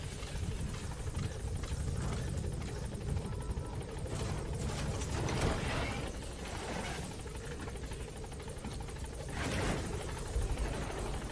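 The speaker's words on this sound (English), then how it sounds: "Support helicopter has arrived." A support helicopter in a video game drones with steady rotor chop, fairly faint and continuous throughout, without any speech.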